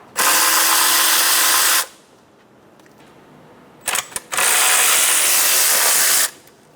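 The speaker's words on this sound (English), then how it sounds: "Using a 10mm socket, remove the 3 screws for the air intake." A power tool with a 10mm socket spins out air intake screws on a 2.7L Toyota Tacoma, two loud sustained whirring bursts of around one and a half and two seconds, separated by a quiet pause and a couple of brief clicks.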